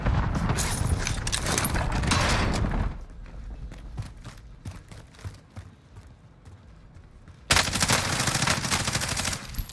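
Bullfrog SMG fire in Warzone: a long, loud automatic burst lasting about three seconds, then a stretch of sparse single shots and clicks, followed by another sustained close burst.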